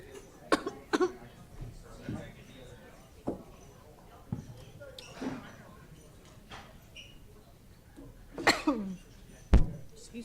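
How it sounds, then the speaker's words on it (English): Several coughs, close to the microphone at a school district governing board meeting, scattered among quiet background sounds and a few thumps. "I'm coughing into the mic."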